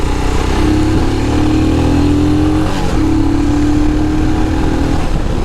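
A Royal Enfield Himalayan BS6 motorcycle engine pulls hard under acceleration on the road, its loud steady drone rising in pitch, easing briefly, then climbing again through the gears.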